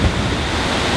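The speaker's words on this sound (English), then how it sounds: "Oh, here comes a big wave." A big ocean wave surges against the rocky coast at Yachats, Oregon, a steady broad roar of surf with wind noise on the microphone, loud and continuous for a moment.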